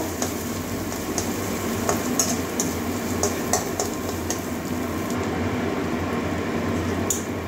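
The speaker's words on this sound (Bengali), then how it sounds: "এবারে মশলাটা একটু ভালো করে কষিয়ে নেব" Spice paste with coriander and cumin powder sautéing in a pan for a potato and okra curry, a steady close sizzle with occasional stirring scrapes, no voices.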